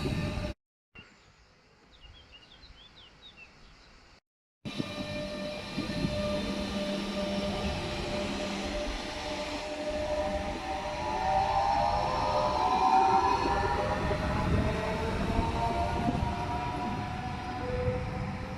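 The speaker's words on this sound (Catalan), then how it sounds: "Próxima circulación. Un tren sin parada." A train thunders through Maçanet-Massanes station in Catalonia, Spain, at speed without stopping, a long rumbling roar with squealing wheels and rattling cars, preceded by a brief quieter stretch.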